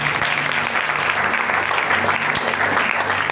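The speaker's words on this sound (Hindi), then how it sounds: "आए खुदा के जलाल के लिए जोरदार तालियां बजाइए" Congregation clapping loudly during a Sunday church service, a dense and steady burst that runs throughout, with a low sustained organ or keyboard tone underneath.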